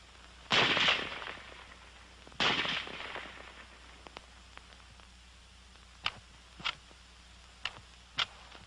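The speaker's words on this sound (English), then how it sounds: "The rifle will fire each time the trigger is pressed until the magazine is empty." An M1 Garand WW2 rifle fires two loud, sharp reports about two seconds apart, each with a short ringing tail, followed by several crisp metallic clicks spaced over the next few seconds.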